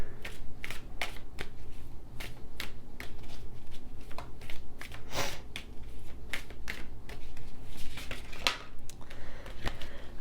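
A deck of goddess oracle cards is shuffled by hand in a string of crisp, riffling bursts and soft card flicks, close and moderately quiet with no talking.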